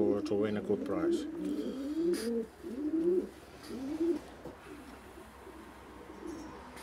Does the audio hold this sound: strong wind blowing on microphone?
no